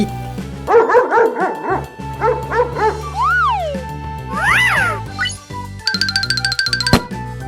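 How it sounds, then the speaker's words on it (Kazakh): A dog barks several times in quick succession over a backing music track, followed by cartoon-style whistles and chimes. "ит"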